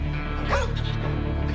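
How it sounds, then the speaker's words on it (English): A dog on a freezing mountain rescue scene gives a short whimpering yip amid a constant, heavy background rumble, the cry brief and partly masked. "She has a dog with her."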